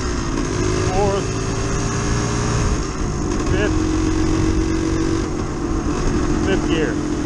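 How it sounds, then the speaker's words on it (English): A Yamaha DT360 motorcycle engine drones steadily on a road, pitch rising and settling as it runs through the gears, loud and close, with a rider talking over it. "I'm going to shift through the gears on the road, make sure they're all good."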